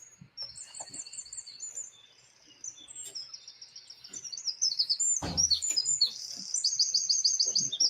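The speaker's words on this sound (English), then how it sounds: "There's just a lot of birds chirping in the background" Many small birds chirp and tweet in the background throughout, in rapid repeated trills and short calls at moderate loudness, alongside quiet indoor sounds during a rhinestone shirt crafting session with a Cricut machine.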